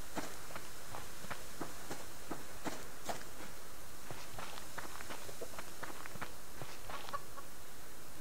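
Chickens in the survival game Subsistence, heard as faint light scratchy steps and soft clucks repeating irregularly at a low level, with no talking.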